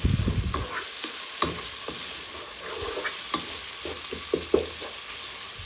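A spiced spinach and potato curry sizzles steadily in a pan, close and clear, while a spoon scrapes and taps through it in irregular strokes, with no voices.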